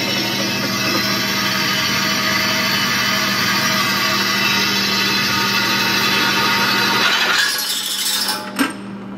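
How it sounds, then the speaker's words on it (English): Power drill boring air holes through steel for a homemade coal forge, a steady loud motorized whine running continuously for about seven seconds before stopping, followed by a brief metallic clink. "Just doing some drilling, getting all these holes in for the air to come through."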